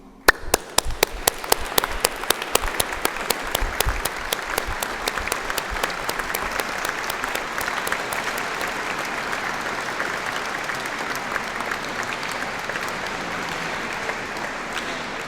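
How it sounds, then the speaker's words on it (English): A crowd at a graduation ceremony gives a long round of applause, loud and sharp at first and then settling into a steady, dense clapping that fades slightly toward the end. "join me by showing your appreciation with a round of applause for all those who have helped you reach this important moment"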